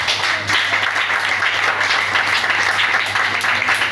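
A church congregation applauds and cheers during an annual offering service, a dense, steady wash of clapping that fills the room from start to finish.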